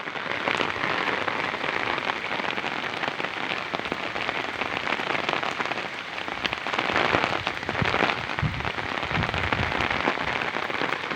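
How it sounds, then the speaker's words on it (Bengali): Heavy rain pours steadily onto surfaces, a dense, continuous hiss with scattered louder drops and splashes, close and loud throughout with no voices. "এইভাবে যদি বৃষ্টি হতে থাকে কি হবে সবার"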